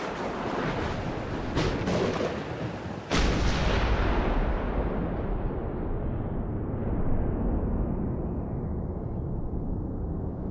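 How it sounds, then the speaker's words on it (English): Heavy gunfire and explosive blasts from the video game The Punisher, a dense loud barrage with a sharp boom near the start, then a sustained rumbling roar. "Gunfire!"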